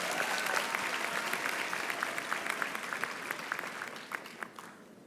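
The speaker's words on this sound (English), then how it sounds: "Let's give the artists another round of applause" University graduation ceremony audience applauding the performing artists, a full even round of clapping in a large hall that tapers off into scattered claps near the end.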